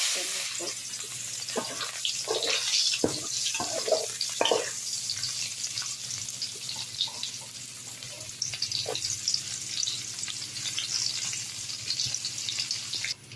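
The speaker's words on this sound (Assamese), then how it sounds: "এতিয়া মই পিঁয়াজ দি ল'ম" Onions sizzle and crackle steadily in hot oil, with occasional stirring scrapes and splashes throughout.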